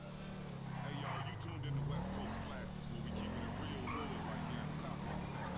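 Engine of a Ford Crown Victoria police car in a video game, a steady low drone rising and falling in pitch as it accelerates and cruises, with people talking over it.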